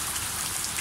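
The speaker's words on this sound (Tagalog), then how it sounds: "Ayan, tingnan niyo ang ulan oh." Rain falling steadily on a cold, windy afternoon, a dense, even hiss of drops with no breaks over a short stretch.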